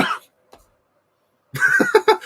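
A person coughs as part of a General Grievous impression: one short rough burst, a pause of near silence, then a longer run of raspy, voiced coughing close to the microphone.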